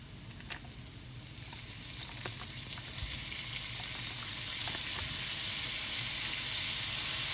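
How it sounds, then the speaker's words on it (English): Butter melting and sizzling in a pan with golden-brown garlic, a continuous close frying hiss that grows slightly louder, with a few soft clinks. "So now our garlic is golden brown. We'll go ahead and add the remaining butter here."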